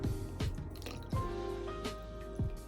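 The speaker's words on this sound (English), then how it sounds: "I'm going to rinse the new filter cartridge in this because this water already has the beneficial" Aquarium filter cartridge rinsed in a bowl of tank water, giving repeated wet squishing and dripping splashes, several sharp sloshes close by with trickling water between them, no talking.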